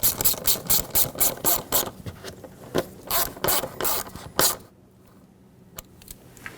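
A ratchet tightens a hose clamp on the PCV hose at the valve cover of a 2008-2020 Dodge Grand Caravan, giving rapid, close, rhythmic clicking strokes for about four seconds before falling quiet.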